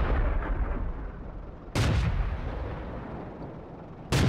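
Tank gun shots in the online game World of Tanks, two loud, sharp cannon blasts a couple of seconds apart. Each is followed by a rumbling engine drone, with no talk.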